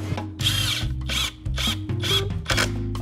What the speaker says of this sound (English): the pre-drill